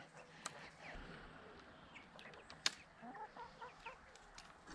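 Chickens cluck softly in a farm coop, a few scattered sharp calls over faint background rustle, quiet and fairly distant.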